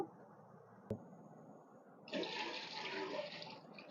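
Water is poured into a Prestro spin mop bucket, a steady splashing rush that starts partway through after a quiet stretch with a single sharp knock.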